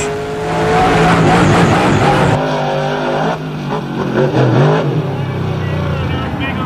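A four-wheel-drive monster truck accelerates hard, its loud engine roaring close with tire squeal and revving that drops and surges again, voices audible over it.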